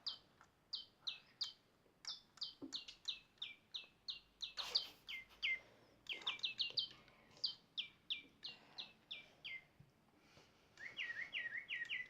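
A Digi Birds toy bird sings electronic melodies of quick, repeated chirping whistles in steady bursts, close and clear, with a short rustle partway through.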